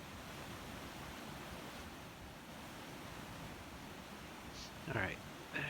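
A constant rushing waterfall ambience plays in X-Plane 11 flight simulator scenery, fairly soft and steady, with a short sharper noise near the end.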